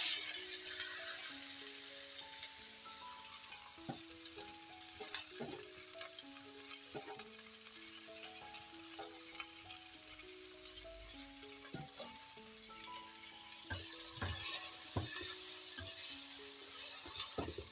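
Cabbage and bean sprouts stir-fried in a pan, a steady hiss of frying with frequent scraping and tapping from the stirring utensil, close and moderately quiet, no talk.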